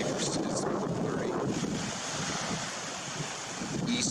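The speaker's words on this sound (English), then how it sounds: "Because the water is being blown toward me. 9-mile-an-hour east wind." An east wind of about nine miles an hour drives Chesapeake Bay water onto the shore, giving steady wave wash and gusty wind rumble against the microphone, with a brief sharper splash near the end.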